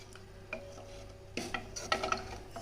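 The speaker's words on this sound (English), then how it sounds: "So gentle stir." Browned rice gently stirred in a cooking pot, a few soft scraping and clinking touches of spoon against metal, quiet at first and then a closer cluster of light stirring knocks.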